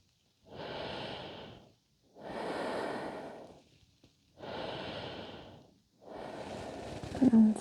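Slow, deep breaths during a yoga session for lower back pain relief: four long, audible breaths with quiet pauses between them, close and fairly soft.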